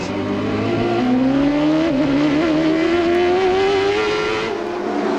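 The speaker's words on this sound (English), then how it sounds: "you heard the engine shifting" A 1994 Indy race car at the Molson Indy Toronto screams loudly past, its engine pitch climbing steadily through the gears with a brief shift dip, sustained and close against a constant roar.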